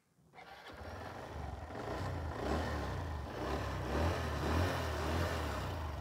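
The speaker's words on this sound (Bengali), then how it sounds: "এই গাড়িটাও আপনাদেরকে স্টার্ট দিয়ে সাউন্ডটা শুনিয়ে দিচ্ছি আমরা" Second-hand motorcycle engine starting up and settling into a steady, rough idle with slight revving, close and continuous for several seconds with no talk.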